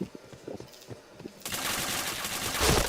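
Rapid automatic gunfire from a shooting video game starts abruptly partway through and stays loud and dense to the end, after a quieter stretch of scattered thuds and footstep-like taps.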